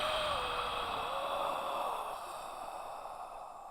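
A long, steady exhale during a yoga-style breathing exercise, a single breathy out-breath that fades slowly over several seconds.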